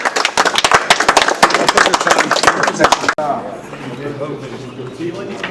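A crowd breaks into lively applause after a speech, dense rapid clapping that stops abruptly, followed by a quieter stretch where a voice talks.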